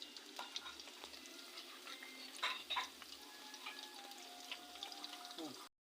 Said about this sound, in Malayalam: സോയ ഇട്ട് കൊടുക്കുകയാണ്.